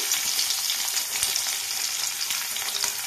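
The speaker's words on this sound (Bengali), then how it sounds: "তেলটা গরম হয়ে গেছে, এর মধ্যে দিয়ে দেব পেঁয়াজ কুচি, কাঁচা লঙ্কা কুচি" Chopped onion and green chilli sizzling in hot oil, a loud, dense and continuous crackle close to the pan with no speech.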